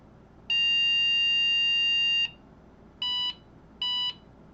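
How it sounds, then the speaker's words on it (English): IBM PC XT 5160 motherboard giving its power-on self-test beep code: one long steady electronic tone followed by two short beeps, loud and clear with a faint background hiss and no talking. "Then gives a long and 2 shorts for a beep."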